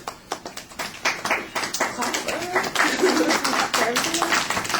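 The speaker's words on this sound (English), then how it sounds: "So I'm going to clap for yours and leave mine hanging there" A single person claps hands in a run of close, sharp claps, with speech overlapping through the second half.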